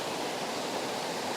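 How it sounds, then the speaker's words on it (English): A layered waterfall pours in a continuous, even hiss of falling water, broad and steady, heard from a modest distance with nothing else over it. "I have the layered waterfall."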